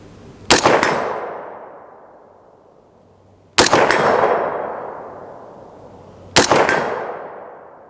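Three loud, sharp shots from a 350 Legend AR-15 hunting rifle, spaced about three seconds apart, each a hard crack followed by a long, fading echo.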